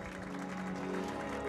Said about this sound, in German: Der Applaus triggert jetzt natürlich auch den Kompressor